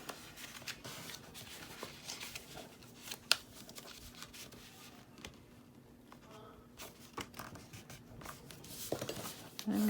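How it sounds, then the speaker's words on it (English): Quiet papery creasing and rubbing as scored milk carton stock is folded along its lines by hand, a series of soft, close crinkles and taps. "Now we're gonna fold on all the score lines."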